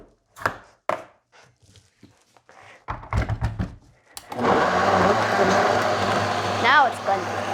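Scattered thunks and knocks, then a blender whirs to life with a steady, loud motor drone and a rising whine while blending pizza ingredients.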